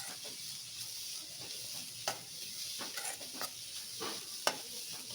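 Broccoli being stirred and cooked in a pan as filling for paratha makes a faint, steady sizzle, with intermittent scraping and tapping from the stirring.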